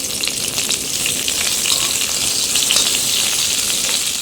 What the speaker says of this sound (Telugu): ఇప్పుడు వీటిని మనము కడాయిలో 2 స్పూన్ల ఆయిల్ పోసుకుని ఇప్పుడు మనము స్టఫ్ చేసిన కాకరకాయ ముక్కల్ని వేసేసుకుందాం